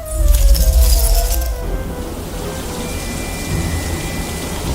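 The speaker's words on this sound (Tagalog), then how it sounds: "Umuulan na nga!" Steady rain pours down with a dense hiss, loudest at the start and then settling into a constant patter, with no voices.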